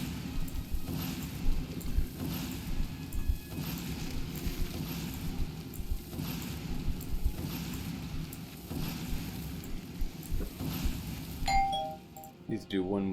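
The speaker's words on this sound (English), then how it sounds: "I'll need to get that doorbell, actually." A doorbell chiming repeatedly in a real room while a Skyrim session plays, a steady series of faint ding-dong tones under game ambience and someone talking.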